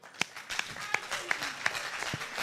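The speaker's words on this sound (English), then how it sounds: "Once more, a round of applause for group number 4." Steady, rhythmic hand claps at a talent search round, spaced evenly about three per second, with a faint murmur of voices and room noise beneath.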